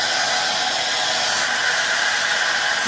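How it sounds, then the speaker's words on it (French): A hair dryer blows continuously at close range, a loud steady airy roar used to dry hairpiece glue along a frontal hairline, with no talking. "Donc maintenant je prends le sèche-cheveux."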